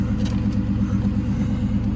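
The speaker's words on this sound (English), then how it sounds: "Let's give it a little rev" A Nissan car's engine running at a low, steady rumble from close by, a gentle rev with no sharp rise in pitch, heard alone without talk.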